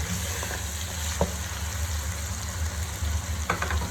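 Masala sizzling in hot oil in a pot while being stirred during cooking of kachnar gosht, a steady close frying hiss with occasional scraping stirs and no talk.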